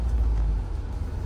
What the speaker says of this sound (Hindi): मुझे मालूम है कि एसी की आवाज़ आ गई होगी